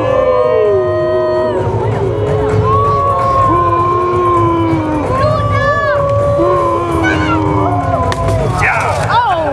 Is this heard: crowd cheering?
yes